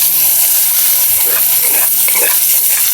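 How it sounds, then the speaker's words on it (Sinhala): Beetroot pieces tipped into hot oil with dried chillies for a beetroot curry, giving a loud, steady hiss of frying that fills the whole stretch with faint stirring underneath. "දැන් රතු වල ටික දානවා තෙල් එකට."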